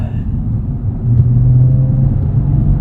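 A 2016 Cadillac ATS-V coupe with a six-speed manual hums with a low, steady exhaust drone that swells and thickens partway through as the valve opens, heard from inside the cabin.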